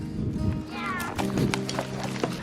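Herd of cows running out of a holding area into a pasture, hooves thudding and clopping close by, with lowing calls rising above the running and some talk in the background.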